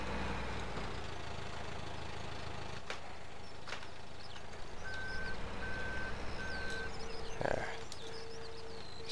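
A wheel loader in Farming Simulator 17 idles low while its reversing alarm sounds a short series of evenly spaced beeps, then a lower steady tone, faint against the engine, with a sharp clunk near the end.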